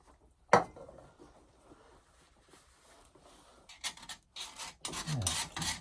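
A screwdriver scrapes inside a rear differential, giving a sharp scrape followed by quieter rasping strokes and then a run of louder grinding scrapes, close and otherwise quiet.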